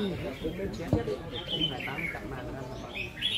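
Competition songbirds at a Vietnamese bird-singing contest chirp and trill in quick bursts, fairly close, over a murmur of voices.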